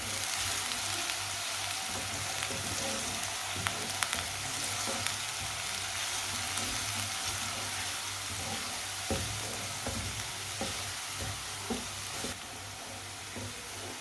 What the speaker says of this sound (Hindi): सब्ज लहसुन को भी थोड़ा सा पका लेंगे 2 मिनट के लिए